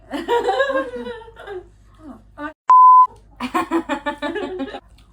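A single steady censor bleep cuts in for about half a second between bursts of casual chatter and laughter.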